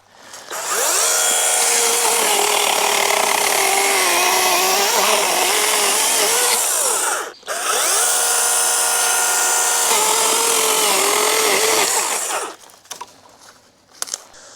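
A DEWALT 20V Max 8-inch pruning chainsaw cuts through a tree limb about 6 inches thick, its loud, steady motor whine holding for long stretches, briefly dipping once mid-cut, then winding down.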